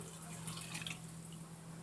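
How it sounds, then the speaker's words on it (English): Water poured from a container onto tender cooked pig feet for Trinidad souse, a faint soft trickle and light dripping at low level, no talk. "so I'm going to add some water"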